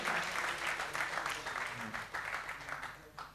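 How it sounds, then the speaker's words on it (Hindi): Audience applause at a university felicitation ceremony on stage, a steady wash of clapping through the whole stretch, moderately loud with no pause. "एक बार जोरदार तालियां हो जाएं सरिता मैम के लिए।"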